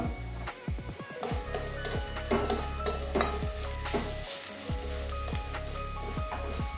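Pointed gourd frying in a pan with Kashmiri chili powder and turmeric gives a steady close sizzle, broken by repeated scraping stirs and light utensil knocks, with no voices.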